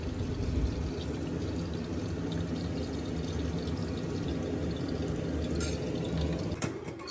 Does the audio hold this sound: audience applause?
no